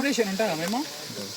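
Mutton drumstick bones frying in a pan, a steady sizzle and crackle heard close up, partly under a man's speech.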